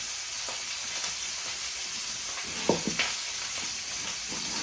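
Cabbage and venison sausage frying too fast in a pan, a loud continuous sizzle and hiss with a few sharper pops and stirring scrapes near the middle, no voices.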